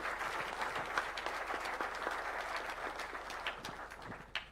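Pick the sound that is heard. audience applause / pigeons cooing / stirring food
audience applause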